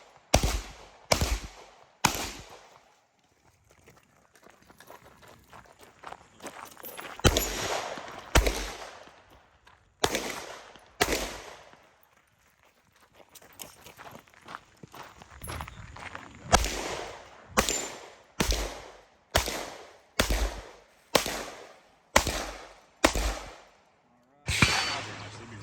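Pistol shots ring out at small targets during a 2-gun match, sharp loud cracks in irregular groups, then a fast string of evenly spaced shots near the end, with quieter stretches of movement between.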